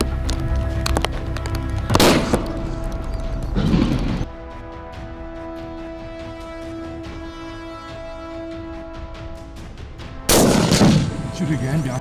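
Rifle shots boom loud and close during a crocodile hunt, a few heavy blasts spaced several seconds apart over a steady background hum.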